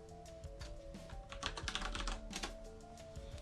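Someone types a password on a computer keyboard while connecting a Raspberry Pi to Windows, a quiet run of close, rapid key clicks over faint background hum.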